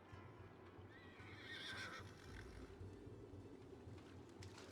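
Two horses whinny in a Battle Realms match, a high neigh rising mid-clip over a steady low rumble of game ambience and faint hoof clatter, moderately distant, with a sharp click at the end.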